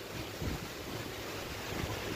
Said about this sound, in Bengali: প্রচণ্ড হাওয়া দিচ্ছে আজকে